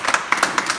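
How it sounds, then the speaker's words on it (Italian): Audience applause for a deputy mayor at an olive oil photography exhibition in Loreto Aprutino: a brief, steady burst of hand clapping from a small crowd, moderately loud with no talking. "un bel applauso anche per lui"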